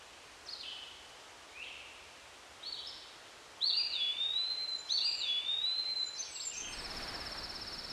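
Several bird calls ring out in Tuvalu, short chirps at first, then clearer whistled phrases, with a soft rustling background and no talking.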